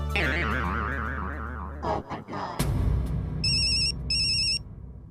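A telephone rings during a call: two short, bright repeated ring bursts near the end, following a stretch of warbling, wobbly electronic tones.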